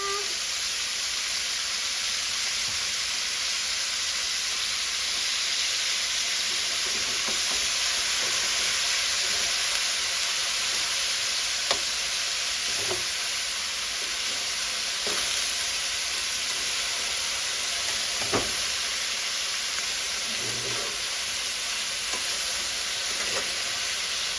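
Pork and cabbage stir-fry in a pan sizzles with a steady, loud hiss, broken by occasional soft clinks and scrapes of stirring.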